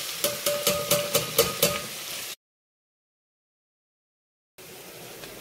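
Leftover masala goes into hot oil in a pan for a North Karnataka brinjal ennegayi curry, with a rapid series of sharp scraping stirs over loud sizzling, then a sudden silence before the frying hiss returns.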